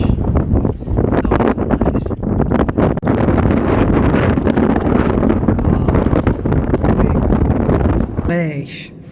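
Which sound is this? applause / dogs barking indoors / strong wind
strong wind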